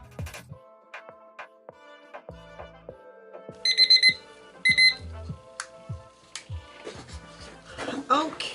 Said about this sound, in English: Set our timer for 5 minutes.